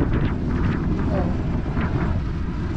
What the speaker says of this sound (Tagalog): Naririnig nyo yan? Ingay ng makina.